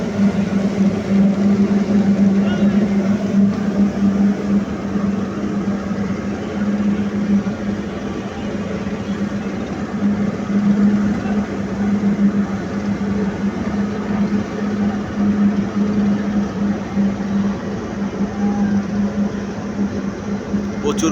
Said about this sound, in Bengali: পরিমাণে জাহাজ চলছে বলগেট ট্রলার অয়েল ট্যাঙ্কার